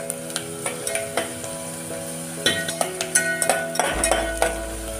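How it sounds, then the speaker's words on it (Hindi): Onions frying in a pan for green pea dal, stirred until golden: steady close sizzling under repeated light clinks and scrapes of a spoon against the pan, with a louder stretch of stirring toward the end. "इसको हम चलाएंगे। इसको हम सुनहरे होने तक पकाएंगे"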